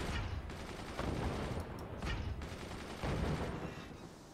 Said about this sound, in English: it's really difficult to fire mortars when you've got outgoing machine gun fire as well